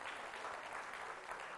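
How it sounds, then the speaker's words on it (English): Steady applause from an audience at an education talk, a dense, even wash of clapping throughout the brief moment, fairly faint and distant, with no voices over it. "Big round of applause for her."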